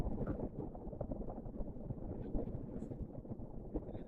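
Strong wind on an overcast day buffets a car on a Perth freeway, making a steady, dense low rumble and roar with no break throughout.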